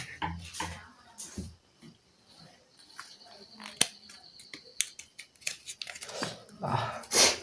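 A puppy yips and whimpers in short, scattered sounds, with faint clicks and voices nearby.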